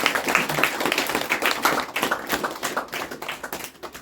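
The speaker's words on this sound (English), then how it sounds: "we will clap for him also" Audience clapping together in a room, a steady patter of many hands that carries on for several seconds and trails off softer toward the end.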